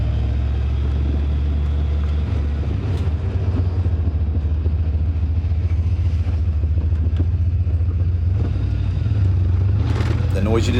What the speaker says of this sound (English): The noise you just heard is that spool.